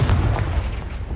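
A Confringo spell explodes in a Harry Potter video game, one short deep boom that rumbles loudly and fades quickly, with no talking.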